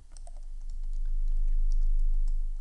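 Keys clatter on a computer keyboard as a root password is typed: a quick, irregular run of light clicks, close and fairly faint over a low background hum.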